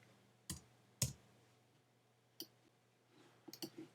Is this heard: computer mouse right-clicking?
yes